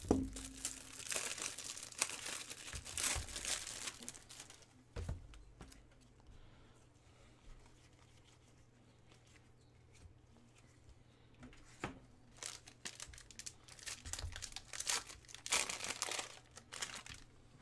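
Crinkling plastic from a 2017 Panini Contenders Draft football trading card pack being cut and pulled open, bursts of close rustling and tearing at the start and end with a quieter stretch between, no talk.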